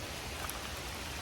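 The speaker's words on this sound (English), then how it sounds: "It's raining so hard." Heavy rain pours down steadily during an outdoor fishing tournament, a dense, even hiss of drops on surfaces that holds at the same level throughout with no pauses.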